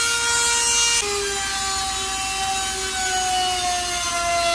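Dremel rotary tool drilling a hole in wood, a loud, close, high whine whose pitch drops and settles as the bit bites in, running unbroken.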